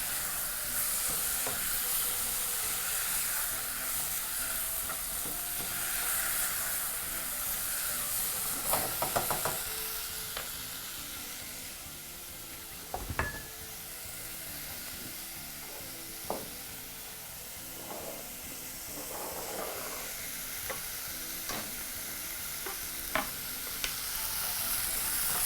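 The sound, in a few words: stirring beef casserole mixture in a pot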